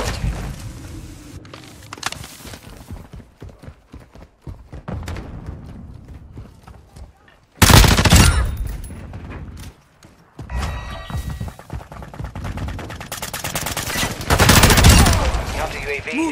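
Automatic gunfire in a Hardpoint match of Modern Warfare 2 on the Dome map, with sharp, loud bursts and rapid volleys repeating through the action, plus quieter stretches of scattered shots and game voice lines.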